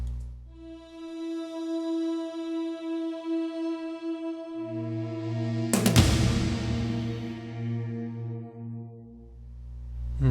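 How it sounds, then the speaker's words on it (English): Orchestral music transition in a Dragon Ball Z score remix, with layered sustained choral space voices swelling over a deep bass, then a kick drum and crash hitting near the midpoint to launch the next beat, loud and alone. "What it is basically an added layer of space voices with a drum that kicks off"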